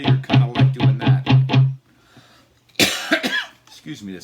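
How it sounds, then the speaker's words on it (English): A man coughs in a quick series of about six harsh, evenly spaced coughs, close and loud, then a short pause before he speaks, during a cigar box guitar slide lesson. "this cough won't leave me alone"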